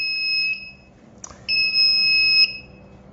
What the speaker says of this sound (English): the over temperature alarm will shouting